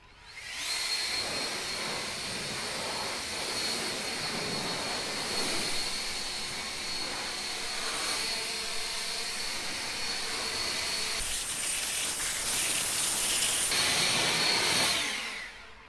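A blower dries a freshly washed quad with a loud, steady, high-pitched roar that runs unbroken, swelling slightly near the end before cutting off.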